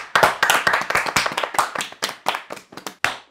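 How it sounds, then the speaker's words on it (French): A small group of people clapping together at a casual get-together, with around a dozen sharp, close claps in a loose, uneven rhythm over a few seconds. "Il faut l'applaudir."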